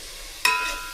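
Red chilli powder, garam masala, turmeric and a homemade village spice mix hit hot tempering oil, giving a sudden sharp burst of sizzling that swells close by and slowly fades.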